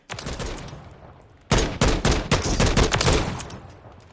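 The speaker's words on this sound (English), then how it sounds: "if I need to fire this fast, close quarters, and then full auto if I need to" Full-auto gunfire in the video game Call of Duty Modern Warfare III, Warzone mode: a rapid burst, a brief lull, then louder, sustained automatic fire with dense rattling shots close up, with no talking.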